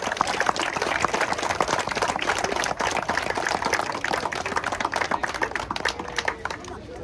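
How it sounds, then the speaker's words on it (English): Outdoor crowd applauding the builders at a playground ribbon cutting, a dense, steady patter of many hands clapping at once, sustained and fairly loud throughout with a faint voice underneath. "If we give a nice round of applause to those who actually built this great project"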